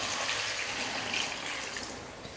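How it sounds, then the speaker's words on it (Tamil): Water pours steadily into a pan of mango and brinjal kara kuzhambu after the masala has been sautéed, a continuous close gushing splash lasting a couple of seconds with no talking. "இப்போ குழம்புக்கு தேவையான அளவுக்கு தண்ணி சேர்த்துக்கிறேன்"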